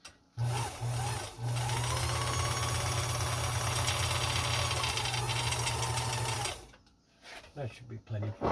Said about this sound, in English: When you're done winding your bobbin, reclutch your machine by tightening the chrome knob in the center of the hand wheel